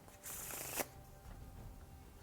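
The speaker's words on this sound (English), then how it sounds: "you can follow up with a riffle shuffle" A riffle shuffle of a deck of playing cards gives a close, loud burst of rapid fluttering card flicks lasting about half a second, ending in a brief snap as the halves bridge together, then quiet handling.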